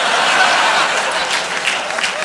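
Studio audience at a late-night talk show taping in Toronto applauding, a dense, steady wash of clapping that stays loud throughout.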